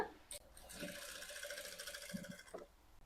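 A sewing machine stitches a boat-neck blouse in a short run of rapid, rattling mechanical whirring lasting under two seconds, framed by quiet clicks and a sharp knock at the end.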